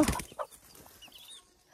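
Chicks and hens clucking close by among pumpkin vines in a rural village yard, with a few short calls after a brief louder rustle at the start.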